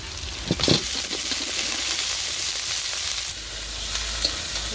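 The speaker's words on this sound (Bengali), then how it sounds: "আদা দিয়েছে আমি একটু ভেজে দিই ভেজে দিই সবজি" Vegetables with ginger fry in a pan in a village kitchen, giving a steady, close sizzle with a few light knocks of a utensil near the start.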